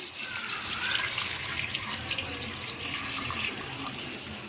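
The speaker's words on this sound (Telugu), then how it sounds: "జీరా ఇవన్నీ వేసుకున్నాక మనకు ఎంత కావాలో అంత వాటర్ వేసుకొని" Water poured steadily into a cooking pot of spinach dal with turmeric and cumin, a continuous close splashing gush with no breaks.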